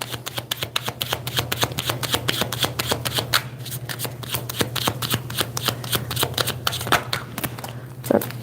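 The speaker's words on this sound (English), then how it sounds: "Let me shuffle this way." A deck of tarot cards is shuffled by hand close to the microphone, a long run of rapid crisp riffling flicks in a steady rhythm over a low background hum.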